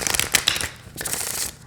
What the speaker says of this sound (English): And no problem shuffling here either.